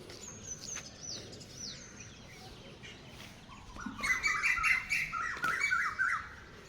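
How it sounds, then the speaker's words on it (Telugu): Sparrows chirp and tweet in bright, busy bursts, growing louder toward the end over faint background hum. "పిచ్చుకల సౌండ్లు"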